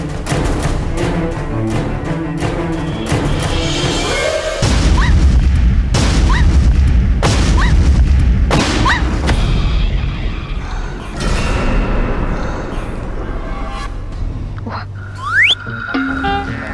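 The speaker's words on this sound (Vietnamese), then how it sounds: "pháo nổ bùm một cái" A training grenade explodes during military recruit training with one deep, heavy boom that leaves a low rumbling tail, followed by scattered sharp noises and a faint whistle.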